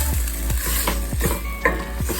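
Canned mild green chilies, juices included, stirred into a hot sizzling pan: a steady loud sizzle with several distinct scraping stirs of a spoon, close up, no voices.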